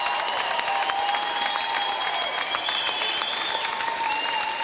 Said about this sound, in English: receiving a warm round of applause here from the fans at the Copper Box.